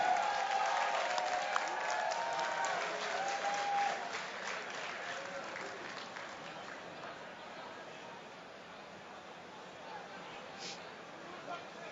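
A live crowd at the MLG Meadowlands 2009 gaming event applauding and cheering, a dense clapping wash loudest at first and slowly fading, with commentators talking over it.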